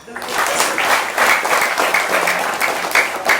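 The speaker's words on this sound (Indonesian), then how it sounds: "Tepuk tangan." Sustained audience applause at an Islamic religious study gathering, steady and fairly loud throughout with dense rapid clapping from a large group, no voices standing out.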